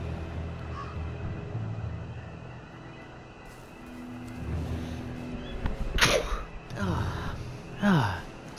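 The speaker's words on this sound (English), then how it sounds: "Sorry, I didn't want to sneeze loudly" A single loud human sneeze near the end of a stretch of quiet background rumble, followed by a breathy exhale, with a person talking earlier.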